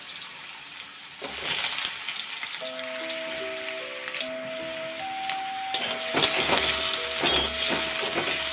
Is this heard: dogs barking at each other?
no